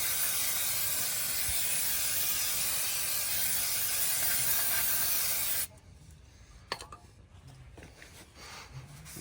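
Brake cleaner sprays from an aerosol can onto a new brake rotor on a 2007-2011 Toyota Camry, stripping the factory film: a loud continuous hiss for about five and a half seconds, then it stops, leaving faint clicks and handling noises.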